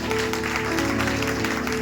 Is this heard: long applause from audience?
yes